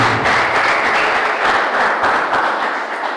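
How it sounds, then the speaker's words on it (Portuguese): A church congregation applauds in worship, a broad, steady wash of many hands clapping for a few seconds. "Vamos aplaudir nosso Deus"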